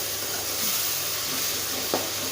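Tomatoes sauté in hot ghee for vegetable fried rice, a steady close sizzling hiss holding evenly throughout, with one brief scrape of a spoon stirring the pan near the end.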